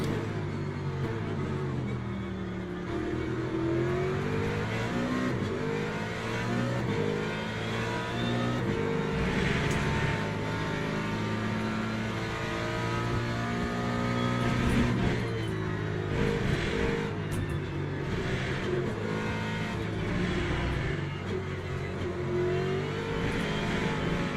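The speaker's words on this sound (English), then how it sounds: "Here comes some more LMPs. Or hypercars, shall I say." Le Mans hypercar prototypes racing at Austin in the simulator Le Mans Ultimate during a WEC event: a steady, loud engine drone with rising and falling revs as cars pass close by, no voices.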